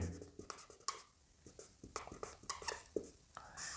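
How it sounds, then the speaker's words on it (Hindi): Someone writes by hand on a map, a close, quiet run of pen scratches and short strokes in an irregular rhythm. "आप इसको यहां लिख देते हैं"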